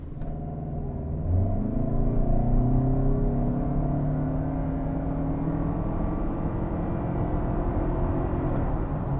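A 2025 Toyota Camry LE pulls away from a torque-brake launch with the air conditioning running, its engine note rising and climbing steadily in pitch, then holding a loud, even droning rumble as it keeps accelerating.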